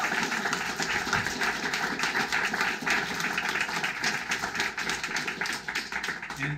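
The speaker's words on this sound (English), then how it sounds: "please give them a round of applause" A crowd applauds at a youth emergency shelter dedication, a dense, continuous patter of many hands clapping at once, sustained at an even loudness throughout.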